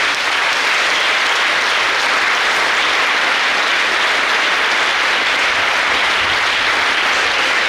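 Audience applause at a World Homoeopathy Day hospital function, a loud, continuous roar of many hands clapping that holds steady and unbroken from start to finish.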